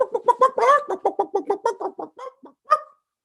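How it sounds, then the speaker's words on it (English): Chickens cluck close by in a quick rhythmic run of about a dozen short clucks, ending with a final louder squawk, with no voices. "They chased out the chickens."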